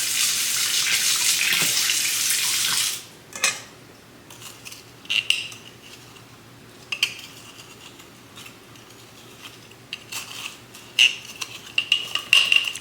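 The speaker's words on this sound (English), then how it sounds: "let it soak in some hot water before we even try this" Hot water runs from a kitchen tap for about three seconds while a jar soaks, then stops, followed by scattered clinks of glass and dishes handled in a sink.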